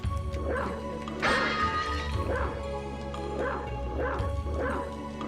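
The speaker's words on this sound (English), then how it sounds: "I can bark or howl or whatever." Wolf-form barks from Castlevania: Symphony of the Night, repeated yips roughly once per second over a steady game music bed, loud and close in the mix, with no talking.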